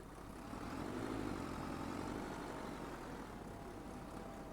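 A farm tractor in Farming Simulator 25 hums low and steady at idle, a quiet continuous engine drone that swells slightly and then settles, with no voices.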